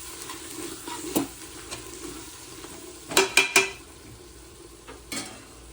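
Chicken being stirred with red chilli powder and biryani masala in a pressure cooker: soft scraping and stirring with a cluster of quick louder metallic clinks midway and a faint background sizzle, no talk.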